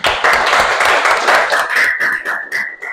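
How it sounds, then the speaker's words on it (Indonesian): A classroom of students claps in unison, loud rhythmic hand claps in quick bursts close by, ending with a ringing tone over the last beats. "Oke, tepuk tangan"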